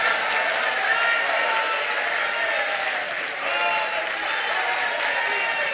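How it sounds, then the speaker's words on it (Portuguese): A church congregation applauding, sustained dense clapping with crowd noise and shouts throughout, steady and fairly loud. "Dê uma salva de palmas ao Senhor!"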